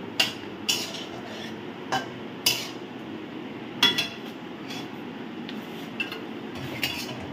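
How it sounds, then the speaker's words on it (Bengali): Stuffed pointed gourds stirred in a pan with a spoonful of ghee, a spoon scraping and clinking against the metal in sharp irregular taps over a low steady cooking hiss. "ভালো করে নেড়ে"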